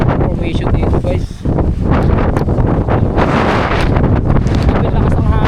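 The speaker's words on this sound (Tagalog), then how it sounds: "Napakalakas sobra ng hangin." Strong wind buffets the microphone continuously, a loud roaring rumble with gusts, while people talk faintly underneath.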